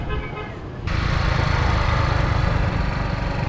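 A small motor scooter engine runs steadily up close, its low rumble jumping louder partway through and holding there.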